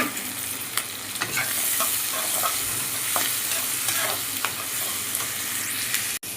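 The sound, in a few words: onions being stirred and sautéed in a frying pan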